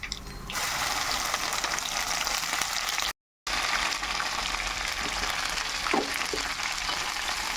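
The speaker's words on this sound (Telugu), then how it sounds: "ఇప్పుడు బెండకాయలు వేసుకుందామండి." Sliced okra hits oil tempered with dried red chillies, garlic and curry leaves and sets off a loud, continuous close sizzle that runs on with a brief cut in the middle.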